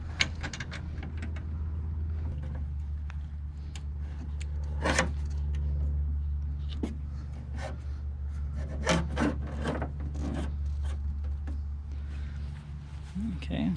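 Rubbing and scraping of metal hardware as a lock nut and washer are fitted by hand onto a jon boat light bar, with soft taps and clicks throughout and someone talking intermittently over a low steady hum.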